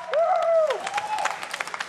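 A brief patter of crowd applause at the MLG Dallas 2008 Halo gaming tournament rises under a sliding electronic tone and fades within two seconds.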